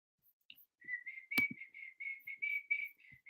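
A person whistles a bright, wavering melody close to the mic during a live stream, the notes coming in short linked phrases, with one sharp knock partway through and no talking.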